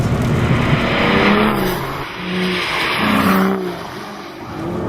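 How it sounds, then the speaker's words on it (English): A loud Aston Martin V12 Vantage Roadster engine roars and rises in pitch through the gears, with a steady rush of wind and tyre noise beneath it. "unfettered access to the engine noise, which is brilliant"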